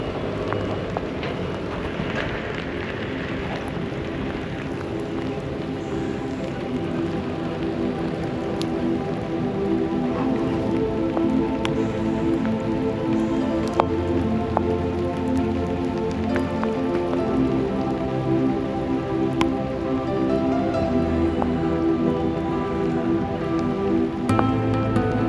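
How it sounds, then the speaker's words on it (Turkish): Steady rain falls on a surface outdoors, continuous and fairly loud, with scattered drips and patters layered over a constant hiss for the whole stretch, no voices. "Şöyle biraz yağmuru çeksin."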